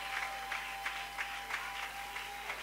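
Audience applause at a live testimony event, a steady wash of clapping with rhythmic bursts, moderately distant and continuous throughout.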